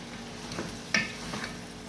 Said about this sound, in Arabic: اشوحهم شوية